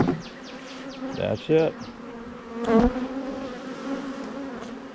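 Honey bees buzz close by in a steady drone, with a few louder passes near the mic and a brief spoken remark.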